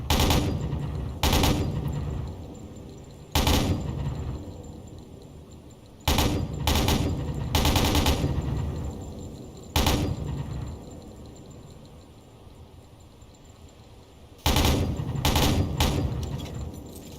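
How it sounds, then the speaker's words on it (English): Machine gun fire in a modded naval combat video game, with spent brass casings rolling afterward: loud, close bursts that recur at intervals, each trailing off into a fading rattle, with no voices. "I love that you can hear the brass rolling."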